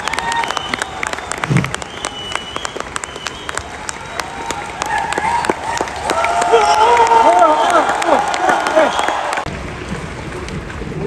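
A crowd in a hall bursts into sustained, close applause that swells toward the middle and then tapers off, with cheering mixed into the clapping.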